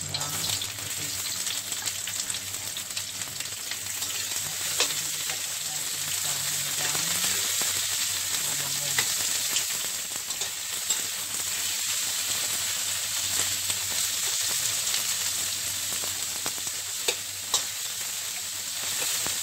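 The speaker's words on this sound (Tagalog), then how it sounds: "Pag mainit na ang mantika, lagay na natin yung mga sibuyas." Onions of two kinds sizzle in hot oil, a dense, continuous crackle with occasional louder pops and stirring scrapes, heard close up and without speech for a long stretch.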